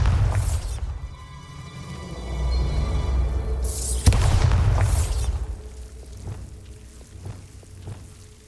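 Bombarda spell blasts in Hogwarts Legacy come as two heavy booms, each with a bright crackling burst, a deep rumble and a scatter of debris. Small pops and patters follow as the noise dies away. No speech is heard.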